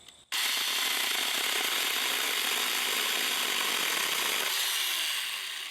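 A small electric saw starts up with a click and runs loud and steady for several seconds, a buzzing grind as it cuts steak, then eases off.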